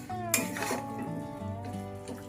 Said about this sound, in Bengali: এবারে এটাকে খুব ভালো করে মিশিয়ে নেব।